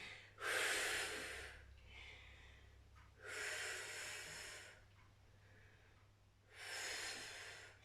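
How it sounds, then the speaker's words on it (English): Three strong, deep breaths during a seated strength and stability exercise class for older adults, each a long airy rush of about a second and a half, spaced a few seconds apart over a low steady hum, with no talking. "Try and breathe in."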